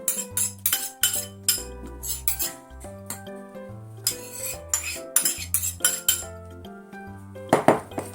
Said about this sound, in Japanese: これをね、バナナと卵に混ぜていきますね